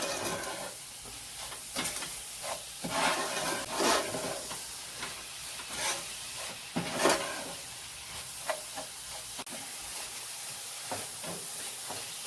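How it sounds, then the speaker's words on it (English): Coconut tart filling with sugar is stirred in a pot over heat, giving a steady hiss and sizzle with repeated scraping strokes of the spoon, close and fairly loud, with no talking. "Give that a nice mix."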